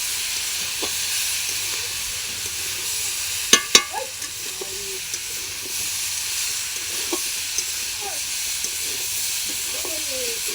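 Spice masala with potatoes sautés in a pan, giving a steady loud sizzle and hiss with occasional scraping stirs and a couple of sharp clinks of the utensil against the pan.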